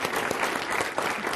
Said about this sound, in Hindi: चलिए ताली बजा दीजिए इनके लिए।